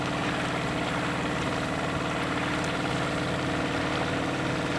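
A steady low boat engine idles on Lake Superior with a constant rumbling throb, unchanging throughout, no voices heard.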